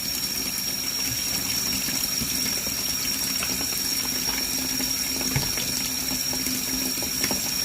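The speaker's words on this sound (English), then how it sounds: "So I'm going to add my vinegar." Vinegar pours into a bag for soaking, a steady hissing liquid stream running continuously at moderate loudness with no talking.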